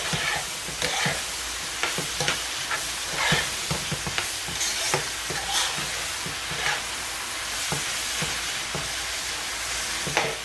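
Meat sauce for lasagna with basil being stirred in a pan, a steady sizzle broken by repeated scraping strokes of the spoon, close and continuous with no talking.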